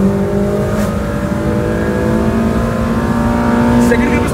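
Tuned car launching and pulling hard in second gear, its engine note loud and close and climbing steadily as it accelerates, while someone talks over the noise.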